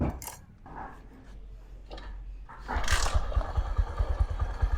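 A Bajaj CT100 motorcycle is started after an oil change. Quiet shuffling is followed by the engine catching and settling into a close, throbbing single-cylinder idle with rapid even pulses.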